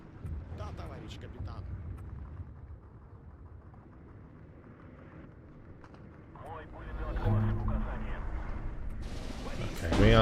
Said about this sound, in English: That is some big artillery as well.